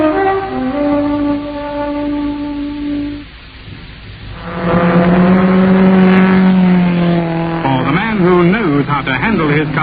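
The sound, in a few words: car engine revving, radio drama sound effect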